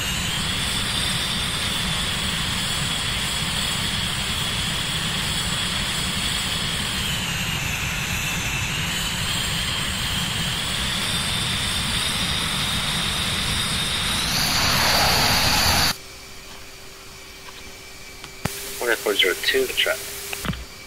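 F/A-18 Hornet jet roaring steadily on carrier approach in the Falcon BMS simulator, a loud constant turbine whine with a high whistle that swells before cutting off, followed by radio talk.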